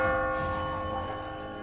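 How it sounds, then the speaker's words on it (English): A large bell tolls in The Walking Dead video game, one loud resonant strike with a long, shimmering ringing tail that slowly fades; no speech. "This is the bell?"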